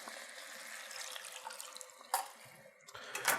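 Beef stock poured into a hot pan for steak Diane, a soft liquid trickle and sizzle with a couple of sharper splashy bursts near the end, close up and without talk.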